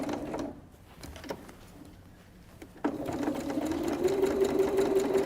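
A sewing machine stitches fabric down, a brief whir early on, then after a quiet gap a steady mechanical run with rhythmic needle clatter and a faint whine, close and moderately loud.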